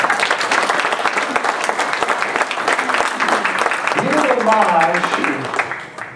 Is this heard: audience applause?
yes